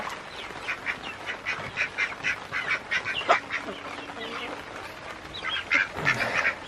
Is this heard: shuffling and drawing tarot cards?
no